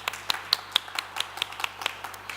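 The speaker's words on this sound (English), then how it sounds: "you can have applause." Sparse hand clapping from a conference audience at a startup pitch event, a thin, uneven patter of separate claps at moderate distance with no speech.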